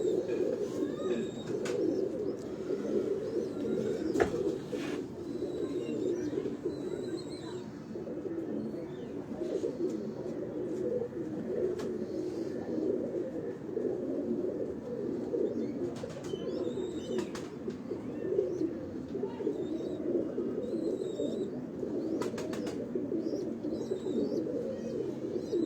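Kashni breed pigeons coo softly and continuously on a Lahore rooftop, a low rolling murmur of several birds with occasional brief chirps and light knocks over faint background noise.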